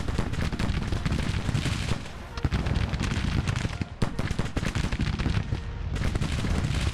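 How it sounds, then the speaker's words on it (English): Dense musket volleys from a Civil War battle in the strategy game Grand Tactician, a continuous crackling roar of massed gunfire with overlapping shots and a brief lull before the firing swells again. "You've got a nice bit of flanking fire on the go now"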